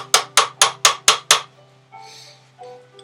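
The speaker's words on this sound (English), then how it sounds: "So I just took a cold chisel and started working it." Six sharp, evenly spaced metallic hammer blows drive a cold chisel against a part of an ACME post drill during disassembly, loud and close, followed by a few faint clinks and a quiet pause.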